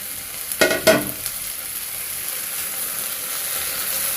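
Potato pieces fry in a pan with a soft, steady sizzle, broken early by a couple of quick clattering knocks before settling into an even hiss.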